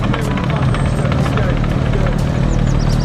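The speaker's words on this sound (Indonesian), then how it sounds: "Di sini ada helikopter." A toy helicopter whirs steadily and loudly throughout, a continuous rotor-like drone with children's toys nearby; a voice talks over it.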